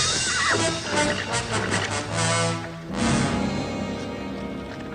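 A winded horse whinnies loudly and close by in a Western film, a long shaky neigh followed by snorting and restless movement.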